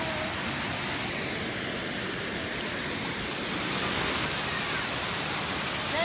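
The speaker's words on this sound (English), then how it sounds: "This is the bottom of the falls" A steady, loud roar of falling water, broad and unbroken throughout, at the base of a waterfall in Thailand.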